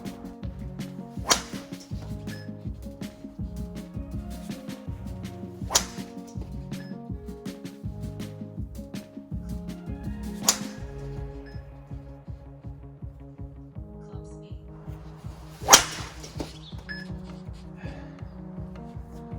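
Sharp, crisp impacts of a Cobra RAD Speed golf driver striking a ball, four spaced hits over a steady low background hum.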